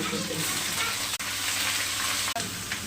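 Lote fish coated in Kashmiri chili powder sizzles steadily in hot oil with leaves, a loud, continuous frying crackle with two brief dips.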